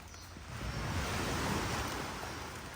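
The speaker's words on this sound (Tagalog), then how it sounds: "Ingay naman ang dagat" Sea waves surging in a continuous, loud wash of noise that swells and slowly fades, with no voices.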